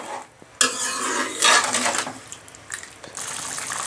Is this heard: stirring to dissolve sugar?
yes